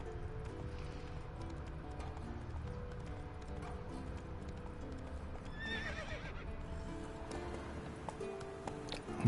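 Rhythmic clip-clop of the horse Roach galloping in The Witcher 3, hooves pounding steadily and close, with a whinny partway through and no talk.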